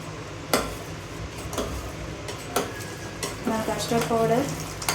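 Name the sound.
stirring custard powder into boiling milk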